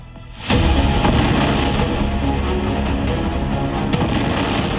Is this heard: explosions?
yes